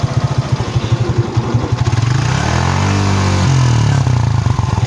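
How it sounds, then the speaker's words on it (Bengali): A Suzuki Gixxer motorcycle engine, loud and close, first idling with a rapid throbbing pulse, then revving up in a rising whine to high RPM and holding before dropping back. "সাত থেকে দশ হাজার আরপিএমে এই ইঞ্জিল সাউন্ড যাচাইয়ের ক্ষেত্রে অবশ্যই একটু সাউন্ডটাতে ভালোভাবে নজর দিবেন ইঞ্জিলের"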